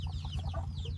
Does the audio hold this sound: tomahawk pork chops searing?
no